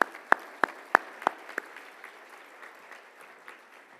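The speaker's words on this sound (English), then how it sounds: "Please join me once again in giving a round of applause to this year's nominees." A short burst of applause at an awards event for nominees, with a handful of sharp, evenly spaced claps up front that quickly thin out into faint scattered clapping.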